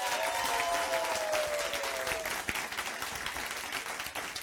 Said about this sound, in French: Donc, on applaudit ça, hein?